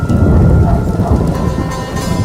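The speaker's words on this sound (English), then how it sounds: "Storm's coming." A thunderstorm in The Witcher, with a loud continuous roar of rain and rumbling thunder, close and dense throughout.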